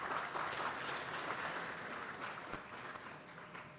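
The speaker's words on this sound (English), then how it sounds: "A big round of applause," Audience clapping at a managerial excellence awards ceremony as an engineering college is honoured, a dense steady applause that slowly fades, moderately distant with no voices over it.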